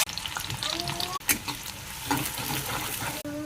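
Onions sizzle and fry in hot oil in a pan for an eggplant curry, a steady crackle broken by a couple of sharp clinks of stirring and a faint background tone.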